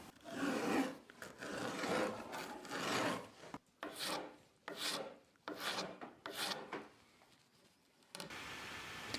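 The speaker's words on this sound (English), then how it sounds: "Now that this glue is dry and hard, I can cut it with my rasp." Hand rasp filing dried, hardened wood glue on a wooden bow, heard as a series of rough, rhythmic scraping strokes close up, with short pauses between passes and no talking.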